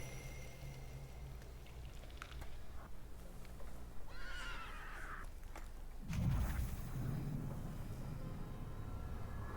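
A horse in a fantasy village setting gives a loud whinny, then snorts and stamps, with clip-clop hooves and ambient game sound throughout.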